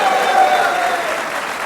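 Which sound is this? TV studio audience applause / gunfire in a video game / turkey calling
TV studio audience applause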